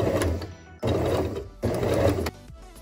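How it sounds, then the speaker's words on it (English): A sewing machine runs in three short bursts, stopping briefly between them as it back-stitches forward and back to lock the stitch at the start of a hem on a small doll crop top. The whirring is close and steady. "I like to start by going back and forth a couple times to lock the stitch in place"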